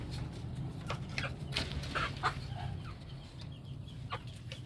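Four Rhode Island hens cluck in short, scattered bursts inside a coop, fairly close, over a steady low hum of background noise, with no talking.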